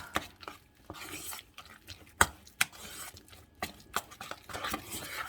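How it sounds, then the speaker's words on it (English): Raw egg stirred quickly into a pot of cooking greens: a series of soft scraping and clinking utensil strokes against the pot, irregular and close, with a few sharper taps, no talking. "I'm going to stir it really fast so it doesn't have a chance to really cook"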